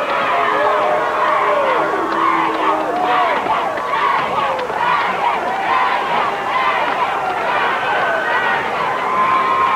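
Loud, dense crowd cheering and shouting fills a wrestling arena in Baton Rouge, Louisiana, sustained roar with rising whoops throughout, continuous and close.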